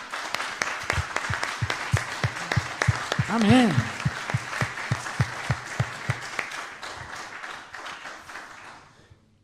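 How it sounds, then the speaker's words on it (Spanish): A church congregation claps for God in a strong, rhythmic unison beat, steady, sharp claps at close range, with a voice briefly calling out midway before the clapping gradually thins and fades. "Y le dan un fuerte aplauso al Señor"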